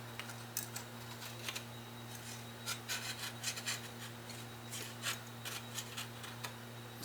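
Old camera light seal on a Canonet being scraped with a small X-Acto chisel, a quiet run of short rasping strokes in an irregular rhythm over a steady low hum.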